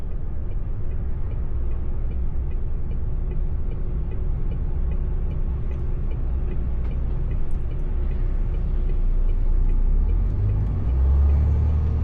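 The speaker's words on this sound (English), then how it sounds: "Should be just where this truck's coming out." Truck pulling out on a street in Newcastle, a continuous deep engine rumble that swells slightly louder toward the end, heard nearby with steady low road noise.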